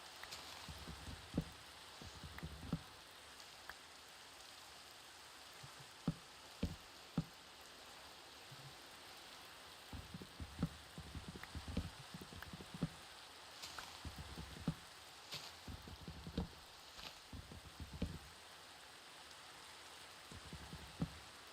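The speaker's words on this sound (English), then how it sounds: "It's raining, of course." Quiet, steady patter of rain falling in a Minecraft game world, a soft continuous hiss broken by scattered faint knocking taps throughout.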